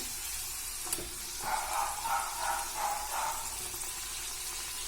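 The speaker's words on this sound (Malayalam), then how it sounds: "മീഡിയം ഫ്ലെയിമിലിട്ടിട്ട് വേണം ഇത് ഫ്രൈ ചെയ്തെടുക്കാനായിട്ട്" Homemade samosas deep-frying in oil on medium flame, a faint continuous hiss with a cluster of brighter bubbling crackles in the middle and one sharp tap early on, quiet and close.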